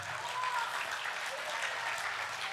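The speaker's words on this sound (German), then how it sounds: "Applaus für alle Kinder, kommt." An audience at a Saxony-Anhalt Courage school network state conference applauds for all children on World Children's Day, a steady, even wash of clapping from a crowd in a hall, moderately distant, with a faint voice briefly audible.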